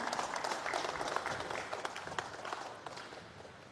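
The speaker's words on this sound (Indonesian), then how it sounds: "Boleh kita berikan apresiasi dengan tepuk tangan yang meriah" An audience at a government event in North Maluku claps, a dense, fairly soft round of applause that gradually thins and fades over a few seconds.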